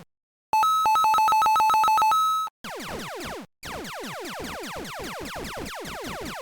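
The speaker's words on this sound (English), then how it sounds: "Let's add some sounds using BFXR." Retro chiptune sound effects made in BFXR for a Breakout-style shooter game: a rapid warbling beeping burst, then rapid repeated downward zaps and laser-like chirps, loud synthetic tones with no talk.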